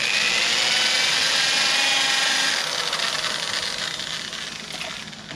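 Handheld power drill with a polishing pad buffing a plastic headlight lens, a steady loud whirring grind that eases slightly in the second half.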